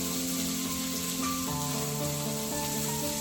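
Onions frying in a pan give a steady, hissing sizzle throughout, with a sustained tonal hum layered underneath whose pitch shifts partway through.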